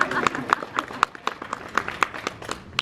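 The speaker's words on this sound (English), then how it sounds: "Round of applause for the bottle of water." An audience at VidCon claps during a Draw with Jazza session, the claps falling in a steady, fairly quick beat at moderate loudness, with faint voices underneath.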